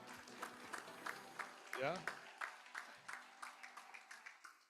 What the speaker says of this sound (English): Clapping is good for you.